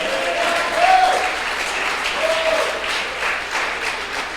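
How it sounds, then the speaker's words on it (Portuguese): Church congregation applauding for the Lord, a steady, fairly loud wash of clapping with a couple of faint raised voices or cheers rising briefly above it. "Você pode aplaudir o nome do Senhor?"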